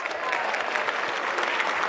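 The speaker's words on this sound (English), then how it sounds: "Give a round of applause." A workshop audience applauds a volunteer during a storytelling session for IT leaders, with brisk, dense clapping from a group of people that stays steady throughout.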